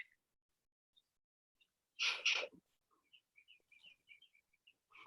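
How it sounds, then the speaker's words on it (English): Faint, sparse bird chirps in near silence, a short bright burst of twittering followed by small scattered tweets. "It sounds like birds chirping."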